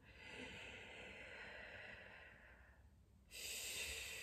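Slow, steady inhaling and exhaling during a thoracic breathing exercise, a long soft airy breath fading out before a louder, sharper breath sound begins near the end, close and with no talking.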